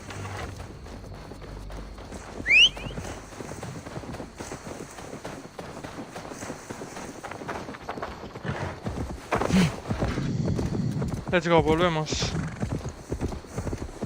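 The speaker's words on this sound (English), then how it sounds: "Now to deliver Magni his horse." Horse hooves clip-clopping in Assassin's Creed Valhalla, a rhythmic trotting patter under game noise, with someone talking over it and a brief whinny-like squeal near the end.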